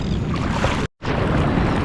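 A kayak is dragged up through shallow saltwater at a remote shoreline camp spot, giving a loud, steady rushing scrape that breaks off for a moment and then resumes.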